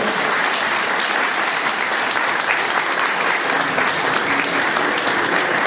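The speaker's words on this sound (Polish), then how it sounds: "Także wielkie brawa dla Leszka." At the TKS Bóbr club celebration, a crowd applauds the volleyball coach with a thick, unbroken roar of clapping, loud and even from start to finish with no talk over it.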